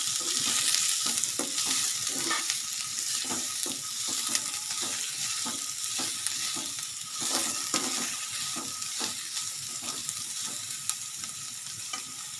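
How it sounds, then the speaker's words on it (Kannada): Chopped onions fry in a pan with a steady sizzle, and a spoon scrapes and stirs them in a repeated rhythm, close and moderately loud, with nobody talking. "ಇನ್ನು ಇದು ಈರುಳ್ಳಿ ಎಲ್ಲ ಈ ಥರ ಚೆನ್ನಾಗಿ ಬೇಯ್ತಾ ಇದೆ ನೋಡಿ"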